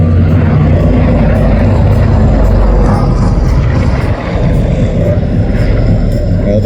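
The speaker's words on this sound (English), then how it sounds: "these engines, they're Wright duplex cyclones, which is quite complex." Wright Duplex Cyclone turbo-compound radial piston engines on a Lockheed C-121C Super Constellation at an airshow drone loudly and close by, a heavy propeller roar with a rough rumbling throb that holds steady throughout.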